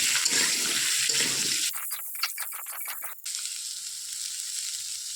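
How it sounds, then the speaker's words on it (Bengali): Brinjal stirred and frying in a pan for shukto, a loud steady sizzle that breaks into a few scraping stirs before the hiss settles back in, with no voices. "বেগুনটা দিয়ে একটু ভালো করে নেড়ে নেবো, কষে নেবো।"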